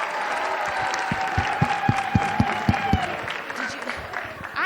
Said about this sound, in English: Can we clap for them one more time?